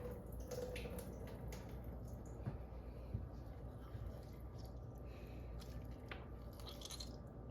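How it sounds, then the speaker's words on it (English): Soaking water drains off softened raisins during sourdough bread prep, faint dripping and small wet splashes with a few soft squishy sounds over a low, steady background. "Gonna just drain a bit of the water."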